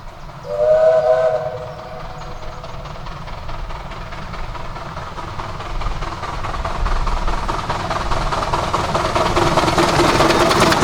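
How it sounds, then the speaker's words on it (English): A steam train's whistle sounds briefly, then the rhythmic chuffing and rumbling of the train grows louder as it passes nearby, on the Ravenglass and Eskdale Railway during its May gala. "you saw steam trains with diesels on the rear"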